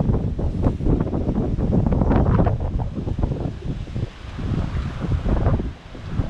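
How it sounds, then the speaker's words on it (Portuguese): Strong wind at a San Francisco viewpoint batters the microphone with a continuous loud, gusting rumble that dips briefly before surging again. "O vento está de doidos hoje"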